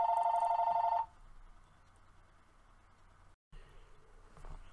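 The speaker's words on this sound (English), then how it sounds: "The phone rang." A telephone rings loudly and close for about a second at the start, a shrill, buzzing electronic trill, then cuts off, leaving quiet room noise.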